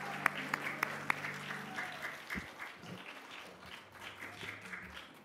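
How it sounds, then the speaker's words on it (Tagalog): A church congregation breaks into applause during a worship service, with a few sharp claps at first that build into a steady, moderately loud patter of many hands filling the room. "Palakpak para sa nag-iisa tunay na Diyos."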